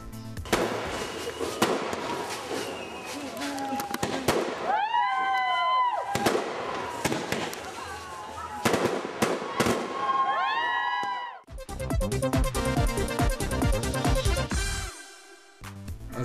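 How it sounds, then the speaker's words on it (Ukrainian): Festive fireworks display over the Black Sea shore, with repeated booms, whistling rockets and rapid crackling bursts, loud and fairly close, with a crowd faintly audible beneath. "завершене святковим феєрверком на березі Чорного моря"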